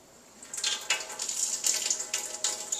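A light stream of water runs from a kitchen tap, a soft, close splashing that starts after a brief quiet moment and continues unevenly to the end.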